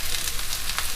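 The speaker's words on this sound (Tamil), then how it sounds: "சுற்றி எண்ணெய் சேர்த்துக்கலாம்." Oil sizzling around a bottle gourd rice roti frying in a pan, a steady dense hiss with small crackling pops throughout, close and continuous, no voices.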